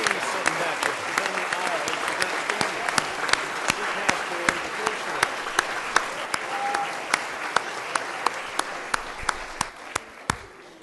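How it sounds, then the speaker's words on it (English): Awards-ceremony audience applauding educators, steady dense clapping across the whole span with sharp individual claps standing out near the microphone and a murmur of the crowd beneath. "Let's give a big round of applause."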